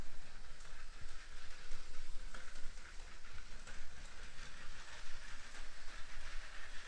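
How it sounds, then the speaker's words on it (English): A LEGO City toy train runs along its plastic track on a home layout, giving a continuous rattling, clicking hum that stays fairly loud and steady throughout, with no talking. "let's fire up the train"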